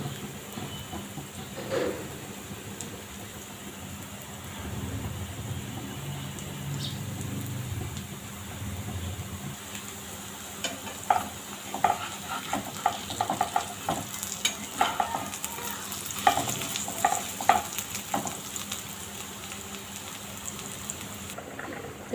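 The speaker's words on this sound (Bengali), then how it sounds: "সব দিয়ে আস্তে আস্তে ভেজে নেব" Food fries slowly in a pan at home, a continuous soft sizzle joined partway through by stirring scrapes and clattering taps that grow busier and louder toward the end, with no talking.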